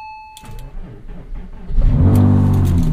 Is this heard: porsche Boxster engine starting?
yes